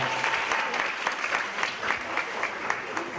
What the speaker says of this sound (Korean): 다시 한번 박수로 환영을 해주시기 바랍니다.